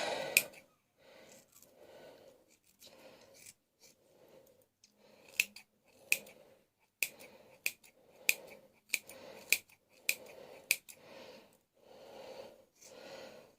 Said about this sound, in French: J'ai les cheveux trop épais pour ces ciseaux,